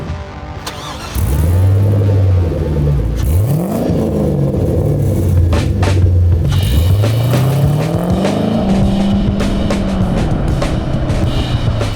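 A 1974 Corvette Stingray C3 with a swapped-in LS V8 engine drives past, close and loud, its exhaust note rising and falling through several gear changes and bursts of revving over about twelve seconds, with no talk.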